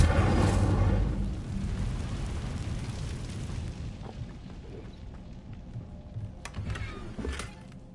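An Incendio fire spell cast in Hogwarts Legacy opens with a loud fiery burst and low rumble. It fades into a crackling, roaring wash with a few sharp bright hits near the end.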